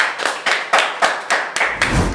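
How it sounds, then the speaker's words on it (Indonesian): Applause for a guest arriving on an Indonesian talk show, heard as a few loud, distinct claps in a slow regular rhythm, close by and with no one talking. "Kita kasih tepuk tangan"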